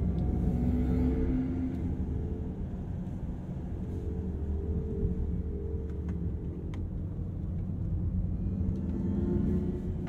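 A Mercedes-Benz EQE electric sedan plays its Vivid Flux synthetic drive sound, a steady, deep, spaceship-like hum with faint shifting tones layered over low rumble, continuous and unaccompanied by speech.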